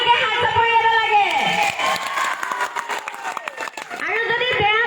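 An audience at a Rongali Bihu comedy stage show in Morigaon breaks into a burst of clapping and cheering in the middle, with a loud voice shouting over the crowd before and after.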